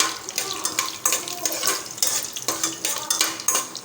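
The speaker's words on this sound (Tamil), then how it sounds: "இப்போ இந்த வத்தல் கொஞ்சம் வதங்கணும் எண்ணெயிலே அப்படியே சேர்த்து கலந்து விட்டுக்கலாம்" Dried sundakkai berries sauté in hot oil for vatha kuzhambu, a spoon scraping and stirring the pan in quick, regular strokes over a soft, constant sizzle, close and fairly loud.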